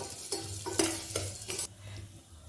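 Vermicelli (semiya) frying in ghee in a pan gives a soft sizzle under a few sharp scraping strokes of a spoon stirring, about four distinct scrapes before it quiets.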